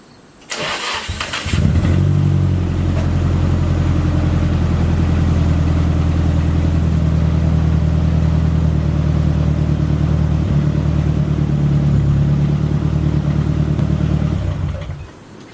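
A teal Nissan 240SX with a full exhaust starts with a crank, then settles into a loud, steady idle with a deep rumble that runs close up for over ten seconds before shutting off.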